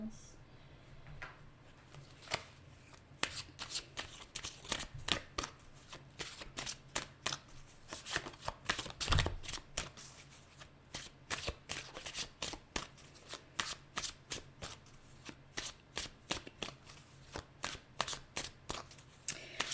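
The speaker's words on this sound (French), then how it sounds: "Je vais prendre mes tarots pour vous, Balance." Tarot cards are shuffled by hand in quick, crisp riffling bursts that repeat steadily and close up throughout, with soft card slaps between them and no one speaking.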